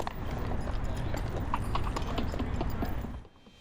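Horses' hooves at a funeral ceremony at Arlington National Cemetery, a dense run of steady clip-clop beats close by, cutting off abruptly near the end.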